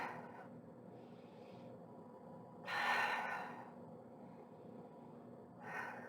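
Slow, close breathing during a yoga exercise, with a soft steady hum underneath and a louder airy exhale in the middle, then another breath near the end.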